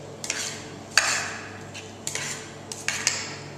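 A utensil stirs and taps against a bowl while a horseradish filling is mixed, giving a few distinct clinks and scrapes spaced across a quiet room.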